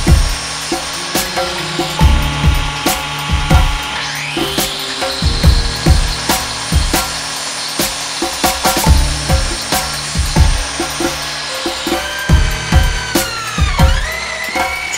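A turned wooden handle for a 2x4 beer box is sawn to length by hand, with rhythmic, close, loud rasping strokes repeating evenly, punctuated by brief scraping pauses.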